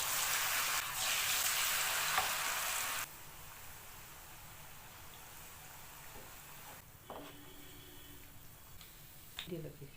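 Batter-coated munthiri kothu balls deep fry in hot oil, a soft hissing sizzle that is louder at first, then settles into a quieter, steady bubbling with a few faint clinks.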